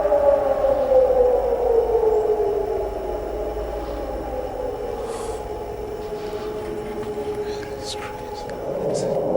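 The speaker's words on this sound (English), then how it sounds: "That's an air raid siren, you think?" An air raid siren wails from a distance, its tone gradually winding down in pitch, with faint background noise and voices around it.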